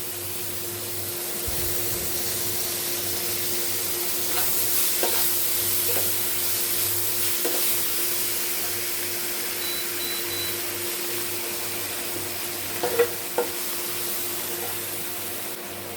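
Ginger garlic paste fries in a pan for chilli cabbage, a steady close sizzle with occasional soft stirring clicks and no talking.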